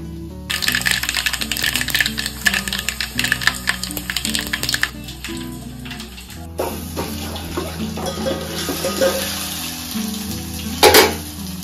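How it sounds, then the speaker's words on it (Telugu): Cumin, mustard seeds and dried red chillies crackle and spit in hot oil, a close, busy sizzle with scattered pops and clinks of utensils, shifting to a steadier fry partway through with a sharp clatter near the end. "నూనె పోసి తాలిపిత్తులు వేసిన జీలకర్ర, ఆవాలు, ఇంకా ఎండుమిర్చి"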